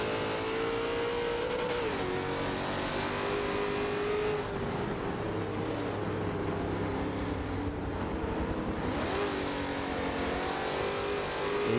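Vintage Trans Am and Camaro race cars in Forza 7 at Brands Hatch roar continuously at high revs, engine pitch rising and dropping through gear changes and braking, loud and close with no break.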